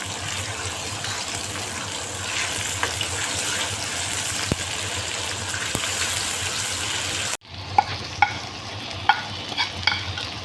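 Dal fries in a pan for masaledar dal fry, giving a loud, continuous sizzle. It cuts off abruptly to a quieter hiss, followed by several sharp metallic clinks and scrapes of stirring.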